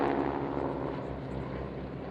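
Breitling L-39 jet and wing walker aircraft flying at the Fairford air show, a steady distant engine roar droning without breaks.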